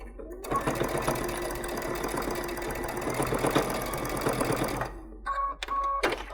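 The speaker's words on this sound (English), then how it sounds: "I'm going to stitch it from inside so I can see what I'm doing" A sewing machine stitches a patchwork stocking from the inside, whirring steadily and close for about five seconds, then stopping and giving a couple of short bursts.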